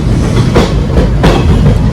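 Inside a passenger train on a pilgrimage trip to Ayodhya, a loud, close rumble of wheels on rails carries a repeating clickety-clack of rail joints, steady and without talk.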